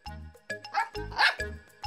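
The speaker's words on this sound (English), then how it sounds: "Snuffy barked happily" A cartoon dog barks happily in a string of short, bright, yappy barks close up, with brief pauses between them.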